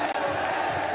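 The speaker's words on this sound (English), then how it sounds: "The crowd erupting, begging for the ace." Crowd roaring and cheering at a Valorant esports match, a dense, sustained wall of voices filling the arena with one brief dip near the start.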